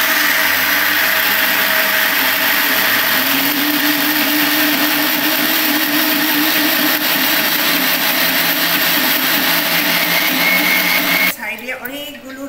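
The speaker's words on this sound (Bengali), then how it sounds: "এইবার আমি মিক্সিটা" A mixer grinder whirs loudly and steadily, grinding a lentil paste for homemade dal bori, the motor's roar continuous for about eleven seconds before cutting off abruptly near the end.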